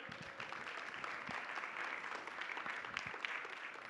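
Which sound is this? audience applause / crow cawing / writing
audience applause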